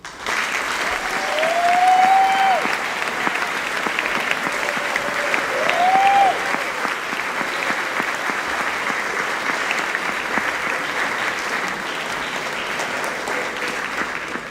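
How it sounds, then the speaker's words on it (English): Sustained audience applause fills a hall at a school's opening convocation and installation ceremony, steady and full, with brief tones sweeping faintly through the clapping. "Well-deserved applause."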